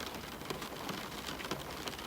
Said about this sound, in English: the rain has just started again